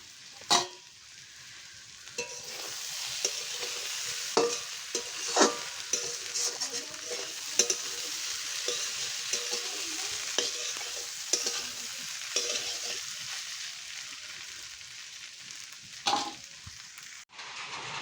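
Eggplant curry cooks in fish oil with a steady, close sizzle and frying hiss, broken by occasional stirring clicks and scrapes in the pan, with no talking over it.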